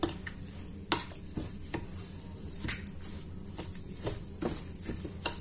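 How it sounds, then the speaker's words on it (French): Bread dough made of flour and water is stirred by hand in a bowl, giving soft wet slaps and irregular sticky knocks at close range, with no talking. "vous mettez tout l'eau. Vous mélangez."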